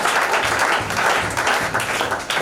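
Applause from an audience at a women's event, a steady dense clapping wash that holds loud and even throughout with no voices standing out.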